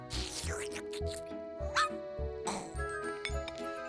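A cartoon dog barks and yips repeatedly in an animated Parisian scene, short sharp barks in an uneven rhythm, close and fairly loud, mixed with whimpers and brief voices.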